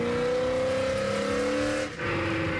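A Chevrolet C10 pickup truck engine drones loudly and steadily under acceleration, its pitch holding and then shifting as the gear changes near the end.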